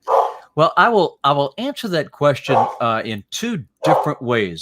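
A dog barks in the background of a sports broadcasting podcast, its calls partly buried under a man's steady, close talking throughout.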